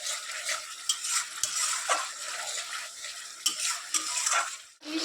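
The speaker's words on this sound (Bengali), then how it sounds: "দিয়ে দিলাম মটরশুঁটিগুলো, দিয়ে ভালো করে উঠে নেড়ে চেড়ে নিচ্ছি।" Green peas being stirred into spice masala in a pan with a spoon, repeated scraping and clinking strokes over a soft sizzle of oil, close and with no talking.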